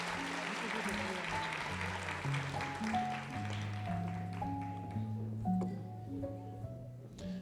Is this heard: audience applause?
yes